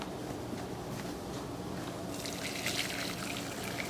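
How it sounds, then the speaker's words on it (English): Liquid, a wine and water mixture, poured through a sifter into a bowl, making a steady close trickle and splash that grows a little brighter partway through, with no talking. "we're just going to pour this through a bowl"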